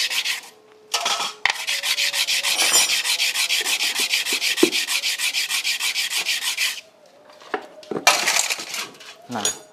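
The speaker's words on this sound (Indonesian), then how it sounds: "Oke, kita ambil amplas ya." Sandpaper laid flat on a sheet of glass rasps as a motorcycle engine part is rubbed back and forth across it, a loud rhythmic scraping run of quick even strokes, then a pause and a few shorter passes.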